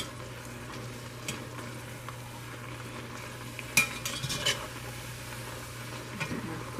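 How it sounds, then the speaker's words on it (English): A metal spoon stirs noodles cooking in a pot in a home kitchen, with a soft scraping sound under a steady low sizzle and a few brief louder clinks partway through. "I really shouldn't be using this metal spoon in this pot because it can scratch it"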